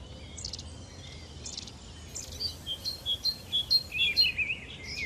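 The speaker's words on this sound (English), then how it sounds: "A lot of research has been done on the songs of urban birds" Urban birds sing in a city in the early morning. A few thin, high calls come first, then a quick run of bright, rhythmic chirps and warbles builds louder, with an insect-like buzz in the background.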